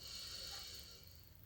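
Calm, deep exhale during a kinesiology breathing exercise, a soft, close airy breath that tapers off quietly.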